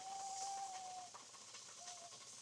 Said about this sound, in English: you start hearing the whistling about 21 minutes or so, 22 minutes.